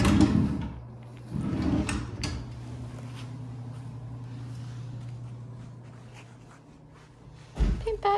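Drawers in a rental home being opened and shut, with a couple of soft knocks and slides early on, then a quiet room hum and a sharper bump near the end.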